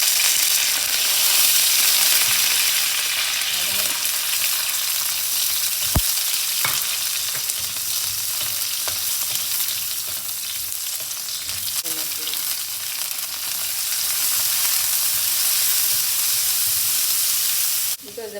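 Green chilies and curry leaves, with dried chilies, sizzle hard in hot oil for a Chettinad prawn stir-fry. It is a loud, continuous frying hiss throughout, with one sharp click partway through.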